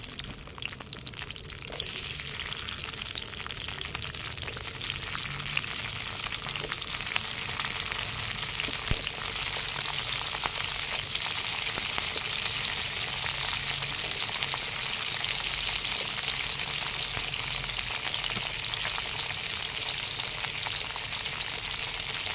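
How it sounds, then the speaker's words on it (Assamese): Cut eggplant pieces fry in plenty of hot oil in a kadai, giving a continuous, dense crackling sizzle that holds steady and close for the whole stretch, with no talking. "এতিয়া এই কাটি লোৱা বেঙেনাখিনি এনেকৈ ভাজি ল'ম"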